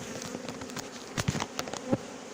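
A swarm of honeybees buzzes steadily while being collected into a cardboard box with smoke in Villabé, a dense close drone with louder individual bees passing near.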